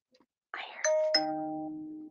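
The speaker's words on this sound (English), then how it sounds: "he's over there ringing your doorbell now" A doorbell chimes two tones, ding then dong, with the second note ringing out and fading; a faint soft rustle precedes it.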